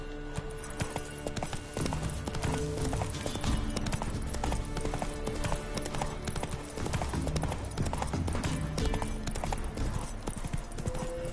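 Horse hooves clip-clop in a steady, fast trotting rhythm in The Witcher 3, loud and continuous under dense game sound with no pause.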